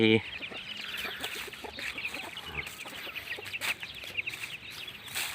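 Domestic chickens cluck repeatedly in quick, uneven bursts at morning feeding, several birds nearby, with a voice briefly at the start and steady outdoor background noise.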